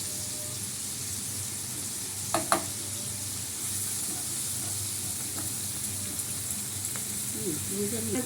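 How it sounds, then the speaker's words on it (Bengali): Fenugreek greens stirred and fried in oil with butter, a faint steady sizzle with a couple of spoon clinks on the pan and soft voices in the background. "মেথি শাকটা একটু তেলের মধ্যে নাড়াচাড়া করে দিই"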